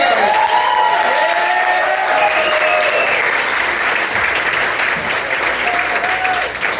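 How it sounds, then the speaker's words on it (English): Audience applause at a comedy show in a pub, steady dense clapping filling the room, loud and sustained throughout with faint crowd voices mixed in. "Please give a huge round of applause for Cyrus Chansler."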